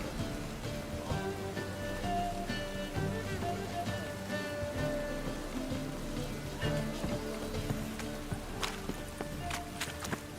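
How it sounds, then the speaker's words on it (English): Steady rain falls in The Witcher 3: Wild Hunt, a constant hiss of drops on surfaces with faint patters, accompanied by light background tones and occasional soft steps, no talk. "Rain again."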